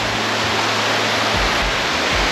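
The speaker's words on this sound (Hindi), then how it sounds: "यहीं से आपका पानी जा रहा है नीचे, यहीं से वाटरफॉल हो रहा है।" Rushing water pours down an unexplored semi waterfall, a loud, steady broadband roar close by with no voices.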